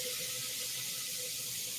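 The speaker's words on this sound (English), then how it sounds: "You hear the sizzle." White onions sizzling in a hot pan with no oil after cumin was added: a continuous, fairly quiet hiss with slight crackle, steady throughout, no talking.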